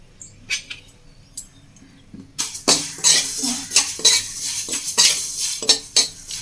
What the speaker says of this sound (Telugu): ఇది సేమియా ఇక్కడ ఫ్రై చేస్తున్నాను